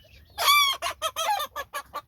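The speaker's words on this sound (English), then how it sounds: "It's a rooster." A mixed-breed rooster gives a harsh squawking call followed by a rapid series of clucks, close and loud in a quiet setting.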